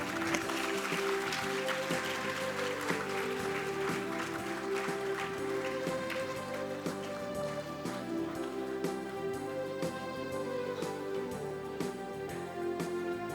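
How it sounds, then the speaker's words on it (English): Audience applause at a school prize distribution ceremony honouring ICSE students, a steady dense patter of many hands clapping continuously, with background music or hum underneath. "Audience, can we please have a round of applause for them?"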